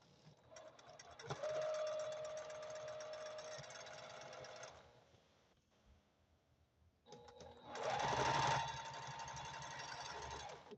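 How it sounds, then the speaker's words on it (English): A sewing machine stitches quilt pieces for web piecing in two steady whirring runs, each lasting a few seconds, separated by a short pause; loud and close. "Now, in web piecing, you just take the designs you have and put right sides together and sew them up."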